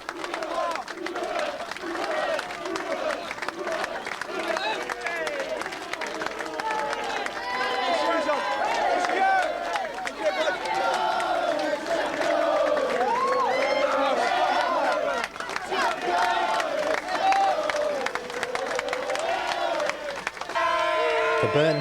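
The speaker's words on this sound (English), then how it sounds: "Skipper Darren Stride, born and bred in Burton-on-Trent, takes the applause of the Albion fans." Burton Albion football fans cheering and applauding their skipper at a match, a loud continuous crowd roar with shouts and whistles rising and falling, mixed with nearby voices throughout.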